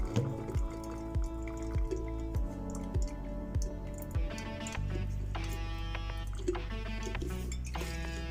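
Hot water poured over a Kalita coffee dripper to rinse it, a run of regular soft drips and splashes followed by a steadier trickling pour with faint clinks, quiet and close.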